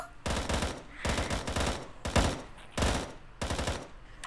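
Bursts of gunfire in a VRChat zombie survival game, five loud rapid volleys separated by short pauses, close and punchy.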